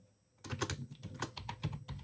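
Close, brisk keystrokes on a computer keyboard while HTML code is entered, starting after a brief quiet moment and continuing as a fast, irregular run of clicks.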